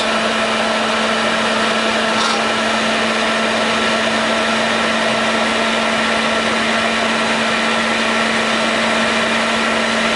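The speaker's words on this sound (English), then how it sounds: "I'm going to hit this with a heat gun" A heat gun blows on motorcycle wiring outdoors on a breezy day, a steady, loud whirring hum with a constant tone that never changes.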